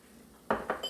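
Flour, salt, pepper and garlic powder being stirred into a pan for chicken croquettes, with two short scraping clinks of utensil against metal, close and moderately loud, and no talking.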